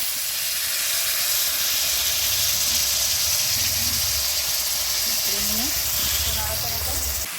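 Milk is poured into hot spiced masala in a pan and sizzles and hisses steadily for several seconds, loud and close, while a voice talks faintly underneath.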